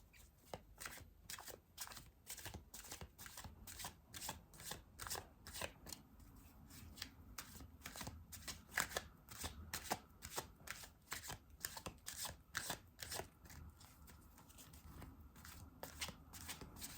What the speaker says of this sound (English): I'm sorry about my shuffling.